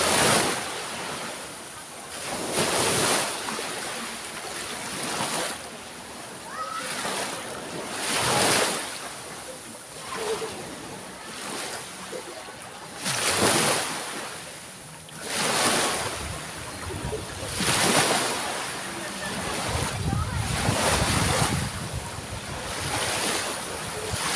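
Sea waves wash around someone wading through shallow water along the shore, a steady rolling surge with repeated swells, heavy wind noise buffeting the microphone, and no clear speech.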